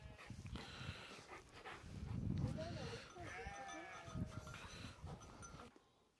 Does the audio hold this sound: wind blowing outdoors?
no